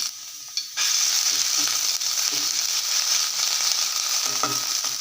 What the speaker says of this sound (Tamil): கடுகு பொரிஞ்சிருச்சு கொஞ்சமாக இருக்குது இஞ்சி பூண்டு பேஸ்ட்டு போட்டுக்கிறேன்